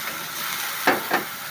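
Water splashed into spices frying in oil gives a constant hissing sizzle with two quick bursts of louder spitting steam, close and alone.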